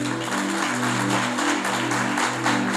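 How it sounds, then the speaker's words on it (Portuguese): Congregation clapping hands in praise during a church service, broad sustained applause layered over steady music tones from instruments. "Eu gostaria que você louvasse o Senhor com as palmas agora."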